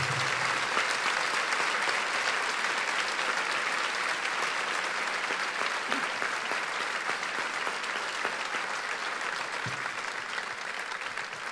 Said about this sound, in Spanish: Cuéntale un aplauso a Dios.